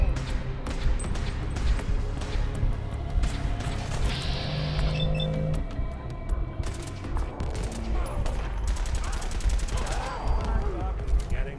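Gunfire in the video game Fallout 4, with repeated bursts of shots crackling close by over a steady game soundscape, some firing in rapid fusillades and a few sharper cracks through the middle.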